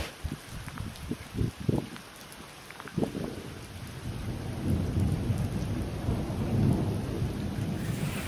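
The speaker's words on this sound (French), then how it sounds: "Oh, ouais, vous entendez l'orage." A thunderstorm in the Morvan region of France, with several close, heavy thunder rumbles early on, followed by a building roar of steady rain that grows louder and fuller toward the end.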